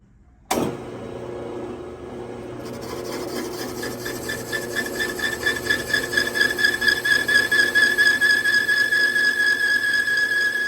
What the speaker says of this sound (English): I'm gonna go ahead and cut this off with my parting bit